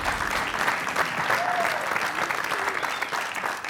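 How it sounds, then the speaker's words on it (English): A television quiz show studio audience claps in a steady, moderate round of applause that holds evenly for a few seconds, with no talking over it. "A concerned applause there from Simon R."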